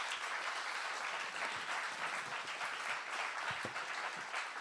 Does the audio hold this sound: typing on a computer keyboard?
no